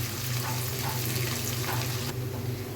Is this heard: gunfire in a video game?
no